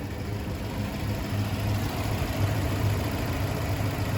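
A lifted Ford Explorer with a V8 and a Flowmaster Super 44 muffler idles steadily, a low, rumbling exhaust burble with a gentle pulsing throb, moderately close and alone.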